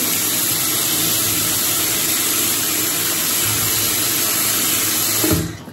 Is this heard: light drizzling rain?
no